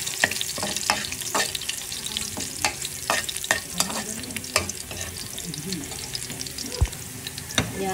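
Garlic frying in a pan for a bittermelon and eggplant dish, a quiet steady sizzle broken by frequent sharp scrapes and taps of a spoon stirring against the pan.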